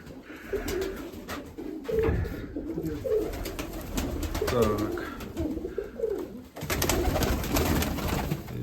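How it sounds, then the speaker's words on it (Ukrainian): Mykolaiv pigeons coo repeatedly in soft, throaty bursts close by in Tsarychanka, Ukraine, with someone speaking briefly over them. "Бачите, в царичанки є голуби хороші."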